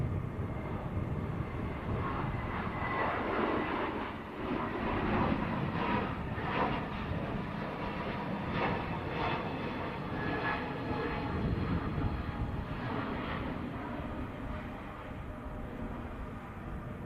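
A Turkish Airlines Airbus A321neo takes off at Manchester Airport with a sustained, broad jet-engine roar that holds steady with slight swells throughout, heard from a distance outdoors with no voices.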